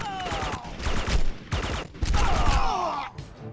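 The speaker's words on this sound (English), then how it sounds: "Weapons fire from the right." Repeated bursts of gunfire and explosions in the Red Faction II video game, each sharp and loud, arriving in uneven clusters with brief pauses between them.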